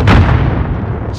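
A rocket fires and bursts with a loud, close boom in the Call of Duty: Modern Warfare video game, a single heavy blast that decays into a low rumble.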